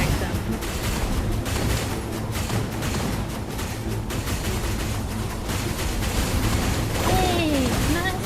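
Airstrike in a Genshin Impact minigame, a dense continuous barrage of explosive rumbling and crackling blasts that stays loud throughout, with a faint whistling sweep near the end.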